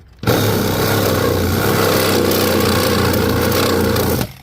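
A hacksaw cuts out a screw between the metal panels of an American Standard gas package unit, making a steady, loud, continuous rasping buzz that starts abruptly and stops just as suddenly.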